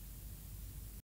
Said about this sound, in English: it's just a cassette noise sample